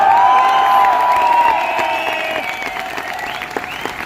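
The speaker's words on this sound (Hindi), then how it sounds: "आपकी सीटियां और तालियां उन्हें बता देगी" A crowd at an RCM business gathering claps loudly and steadily, with several shrill whistles and cheers cutting through the dense applause before it gradually thins out.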